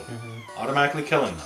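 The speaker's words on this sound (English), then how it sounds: "That was a cat." A cat lets out a short meow that overlaps the end of a person talking, brief and close.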